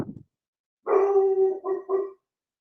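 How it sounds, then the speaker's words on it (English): A pet dog lets out a drawn-out howl that breaks into a couple of shorter barking yowls, near and fairly loud, after a brief noise at the start and with no one talking. "As my dog just howls."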